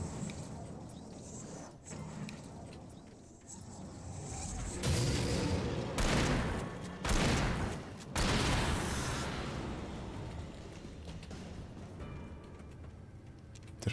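Pistol shots in the video game Alan Wake ring out as several loud, broadband bursts in close succession over a steady bed of game ambience, with quieter stretches before and after.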